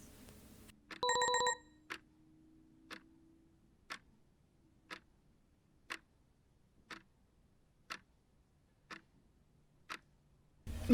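An incoming-call phone ringtone gives a brief bright ringing burst near the start. Steady, evenly spaced ticks follow, about one per second, quiet and close, with no voices.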